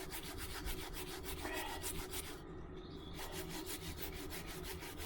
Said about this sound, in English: I'm going for like the stainless steel Brillo pad sort of thing on this one